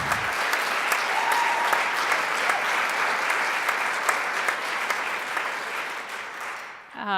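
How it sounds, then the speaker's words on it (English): An audience at a women's sports summit applauds a panel on representation of women in sport: dense, steady clapping from many hands that carries on for about seven seconds before tapering off at the end. "I think we should clap again because this is such an incredible panel."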